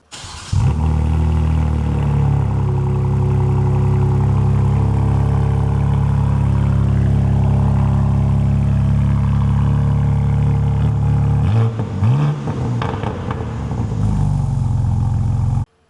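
A car fitted with an aftermarket titanium exhaust starts up loudly and settles into a deep, steady idle close by, then blips the throttle with a couple of short revs near the end, no voices.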